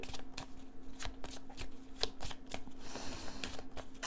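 Rider-Waite tarot deck of major arcana being shuffled by hand, a continuous papery riffle of card edges with soft slaps and brief ticks over four seconds, close and steady with a low background hum.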